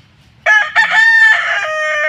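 A rooster crows loudly and close by in one long, drawn-out call, briefly broken near the start, with nothing else heard around it.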